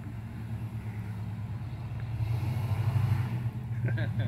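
A deep, rumbling car fitted with a new exhaust idles and swells slightly louder, a low throaty drone, with faint voices briefly near the end.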